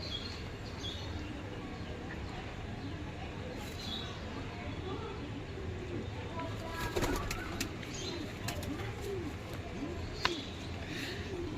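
Soft, repeated cooing of tournament pigeons rolls on steadily against a constant hum of background noise, with a few brief flutters and clicks.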